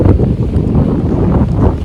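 Strong sea wind in the Maldives buffets the microphone with loud, continuous low rumbling and gusty roaring, no voices present.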